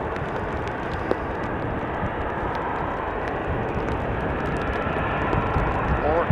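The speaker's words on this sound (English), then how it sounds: "KLM flight 1869. Embraer 190, 11 years old, first flight January 2012." KLM Embraer 190 airliner, 11 years old, at Amsterdam Schiphol Airport in showery weather, a steady broadband jet engine roar at moderate distance that swells slightly toward the end.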